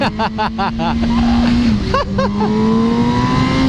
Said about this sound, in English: Centro's hitting that fifth gear pull out